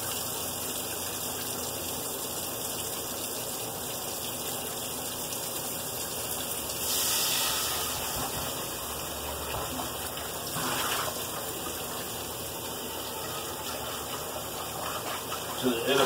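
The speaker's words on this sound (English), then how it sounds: "I'm just gonna rinse this with hot water." Hot water runs steadily from a kitchen tap to rinse a dish, a continuous hissing gush at moderate level that swells briefly a couple of times.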